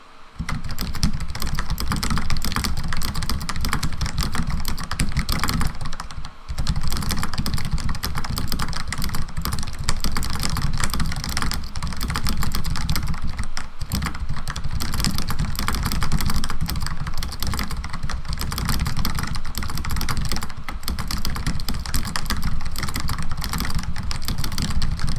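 Rapid, steady typing on a cheap Amazon computer keyboard, a dense run of clicky keystrokes that continues at a loud, even level for about 25 seconds, broken by a few short pauses and with no voices.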